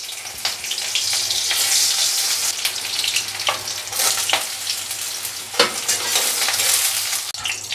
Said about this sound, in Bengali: প্রথমে আমি এইটুকু দিয়ে পেঁয়াজ ভেজে নিলাম